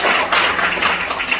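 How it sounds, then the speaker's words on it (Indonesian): Church congregation claps hands in a brief, dense burst of applause, loud and continuous throughout. "Yang percaya berikan tepuk tangan buat kita"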